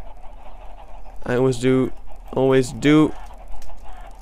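Chickens cluck and squawk in a video game, with two short harmonic bursts close together and someone talking over them.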